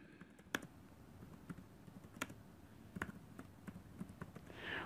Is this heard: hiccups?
no